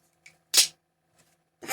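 A plastic balisong butterfly knife is flipped, producing a few short, sharp plastic clacks separated by brief silences, close and fairly quiet.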